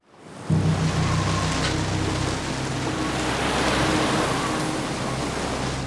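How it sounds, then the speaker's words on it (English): A coastal storm roars with powerful waves, gale-force winds and torrential rain, a dense, loud, continuous wash of noise that starts abruptly and holds steady throughout. "Powerful waves, gale-force winds, torrential rain."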